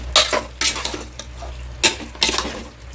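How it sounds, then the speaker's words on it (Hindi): Spices being stirred and mixed into food in a metal pot, with repeated scraping and clanking strokes of a spoon against the pan in bursts, close and fairly loud over a low steady hum. "अभी मैं इसको अच्छे से सब मिक्स करूँगी मसालों के साथ"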